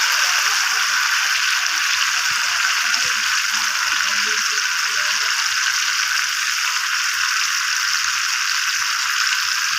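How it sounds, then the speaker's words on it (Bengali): Onion, tomato and spice masala frying in a pan for chicken do pyaza, a steady loud broadband sizzle with light stirring scrapes running the whole time, no voices. "আমি মশলাটা ভালোভাবে কষিয়ে নিচ্ছি"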